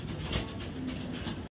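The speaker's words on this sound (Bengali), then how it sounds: "একদম লাইট কালারের একটা নর কবুতর।" A light-coloured male pigeon at a pigeon farm gives a soft, brief cooing call, faint and somewhat distant against quiet background noise, with no voices.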